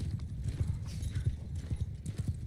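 Horse hooves clip-clop in a steady rapid rhythm in a video game, with a possible faint whinny mixed into the continuous galloping, close and fairly loud throughout.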